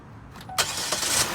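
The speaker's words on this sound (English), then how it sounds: "we're going to go ahead and start this vehicle up, get it running" A car engine cranks and catches to run the donor vehicle for a jump start, a short close burst of starter whir followed by the engine firing and settling into a steady rumble.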